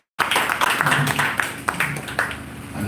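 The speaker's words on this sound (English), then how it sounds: "Give him a round of applause." An audience claps at a Wikipedia outreach gathering, a dense round of applause starting abruptly and holding steady for a few seconds at moderate loudness.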